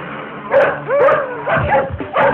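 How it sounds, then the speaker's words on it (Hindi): Dogs shut inside a car bark and yip in a rapid series of sharp, excited calls, loud and close, with a few whimpering tones between the barks. "अबे कुत्ते गाड़ी के अंदर बैठ के भौंक रहा है"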